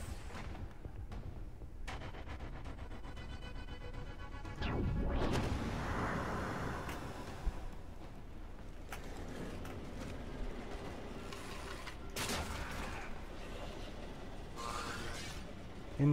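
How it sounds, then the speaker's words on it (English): Gunfire in the shooter game Warframe, sharp bursts and heavy booming impacts scattered among mechanical clatter and shattering, moderately loud, with quieter gaps between the shots. "Someone was shooting at me."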